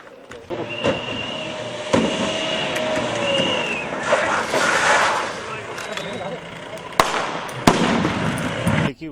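Gunshots at a police line firing range in Jhunjhunu during an annual inspection: several sharp, separate bangs at irregular intervals over a steady background of voices and outdoor noise.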